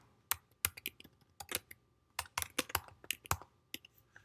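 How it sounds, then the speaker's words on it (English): Rapid computer mouse clicks, some tapping that sounds like keyboard typing, in short irregular bursts close up in a quiet room. "Click on the check mark, and we're going to also click on mouth"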